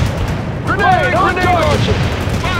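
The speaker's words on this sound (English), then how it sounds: "Incoming fire! We're taking heat!" Battlefield gunfire and blasts from the World in Conflict strategy game rattle and boom under urgent radio-style shouting, with a whistling, sweeping tone arcing through the middle.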